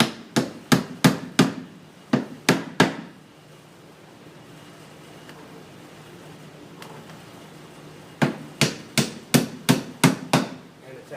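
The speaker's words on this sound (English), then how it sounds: "hold it firmly and grab my hammer." Sharp hammer blows strike window trim in quick bursts of five or six, pause for several seconds of quiet, then resume in another rapid series, close and loud.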